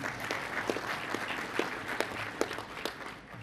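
Applause from an audience at a formal reception in Sydney, Australia, a moderate crowd clapping steadily with a few sharper individual claps standing out, fairly close and without talk.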